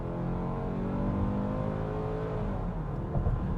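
A 2023 Hyundai Tucson accelerating from a lower speed, its engine note a steady droning hum heard from inside the cabin, rising slightly and fairly loud, with no speech.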